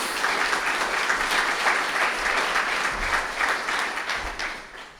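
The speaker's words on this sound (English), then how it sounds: "if you want to give them a round of applause." Loud, continuous audience applause fills a hall at an evening awards ceremony, dense clapping sustained throughout before tapering slightly at the end.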